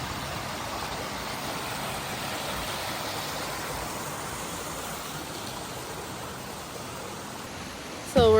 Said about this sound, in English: But you can hear the rushing of water.